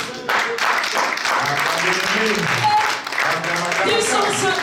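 Congregation applauding during a church service, a dense sustained wash of clapping with voices and cheering mixed in, loud and continuous for several seconds.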